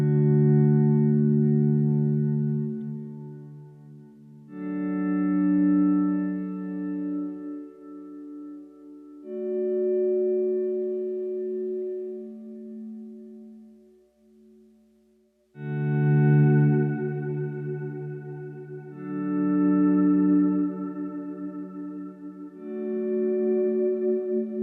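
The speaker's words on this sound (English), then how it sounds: "You can run it in stereo, which I'll do in a second, so you can hear the benefits of having a stereo reverb pedal" Electric guitar run through a stereo reverb pedal with pre-delay, playing sustained clean chords that ring out and fade into a lingering wash, with a brief near-silent gap before the strumming resumes.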